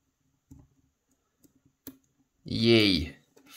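Picking a tapered lock gives a few faint, sparse little clicks spaced seconds apart, followed by a loud vocal exclamation nearby.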